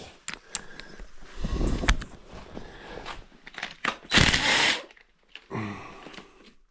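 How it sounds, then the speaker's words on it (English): A handheld impact driver with a 5/8 socket backs bolts out of a Farmall A tractor engine, giving several short, rattling hammering bursts of close, moderately loud whirring separated by pauses and small clinks of metal. "I find these impact drivers so handy for light work."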